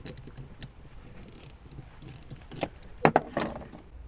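A ratchet tightens the top nut on a car's rear shock absorber, producing quiet, irregular clicking and metallic ticks up close, with a few sharper clacks near the end.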